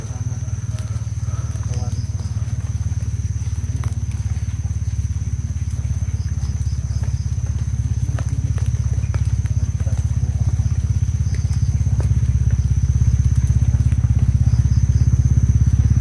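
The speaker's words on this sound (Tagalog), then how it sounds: "May narinig tayo mga motor." Motorcycles drone far away as a low, steady engine rumble that grows slightly louder, with a thin, high, constant whine above it.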